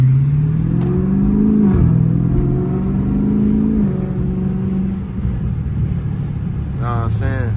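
Dodge Charger Scat Pack with a muffler delete revving, its engine note rising and falling in a loud, close drone with wind noise, while someone talks over it.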